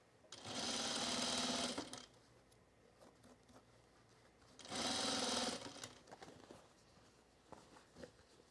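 A sewing machine stitching a pair of jeans runs in two loud, steady bursts of close mechanical whirring, each a second or two long, separated by quieter fabric handling and light clicks.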